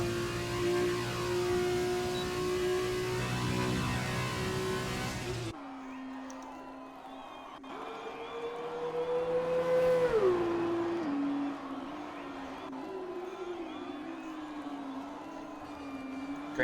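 Formula 2 race cars circulate a Vietnam circuit in an online racing video game league, engine tones holding steady then dropping and rising again as they shift, with a continuous hum and background crowd noise.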